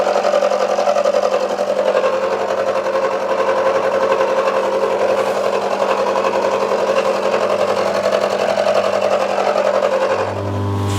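Steady, loud mechanical drone of a metal lathe or mill cutting cast iron at a slow 330 rpm, running continuously with a constant hum and faint rhythmic chatter, easing off at the end.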